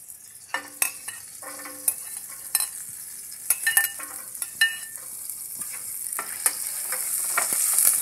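Garlic and onion sauté in a pan for a coconut-milk vegetable dish, a soft hiss that gradually grows louder, punctuated by sharp clinks and scrapes of a utensil against the pan.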